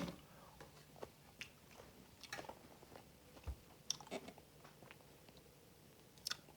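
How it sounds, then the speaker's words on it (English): Someone chewing grapes in a quiet, dark room during a power outage, giving soft, close, irregular wet bites and squishes at low volume. "I will stop eating these grapes though because chewing on the air is probably annoying."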